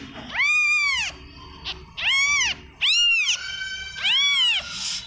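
A three-day-old newborn kitten cries out with four loud, drawn-out, high meows separated by short pauses, close to the recorder, with faint background noise and no talk.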